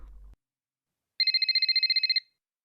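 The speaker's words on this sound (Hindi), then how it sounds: "मम्मी का फोन बज रहा है, किचन में होंगी, उन्हें सुनाई नहीं दे रहा होगा" A telephone rings in a house, a fast trilling electronic bell in one burst of about a dozen rapid pulses lasting around a second, clear and alone after a short low rumble.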